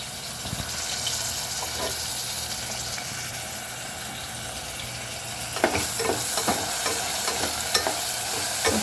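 A ladle stirs peas, turmeric and cashews in a hot pan for mint pulao, with a steady sizzling hiss throughout and a few scraping, clattering strokes toward the end.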